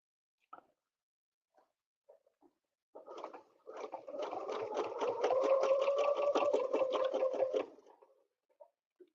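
A sewing machine double-stitching with Westalee ruler work on a snowflake quilt design runs in a steady, fast mechanical rattle for several seconds, preceded by a few faint isolated clicks and taps.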